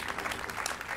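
Steady, dense applause from a jazz concert audience in Preganziol greeting a guitarist, a continuous wash of many hands clapping at moderate loudness with no voices over it.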